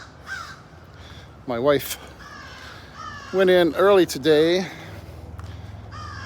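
Crows caw before sunrise outdoors, a few harsh, loud calls mixed with someone talking over a steady low background rumble.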